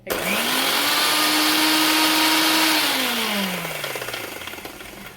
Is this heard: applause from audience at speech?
no